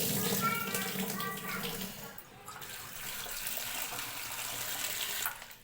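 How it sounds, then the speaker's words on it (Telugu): Potatoes being washed by hand in salted water in a kitchen vessel, loud sloshing and splashing for about two seconds, then quieter rinsing and trickling water continuing until the end. "ఇలా ఉప్పు నీటిలో వేసుకున్నాక ఒకసారి అయితే ఇలా కడుక్కోవాలి ఇలా కడుక్కొని వాటర్ తీసేయాలి"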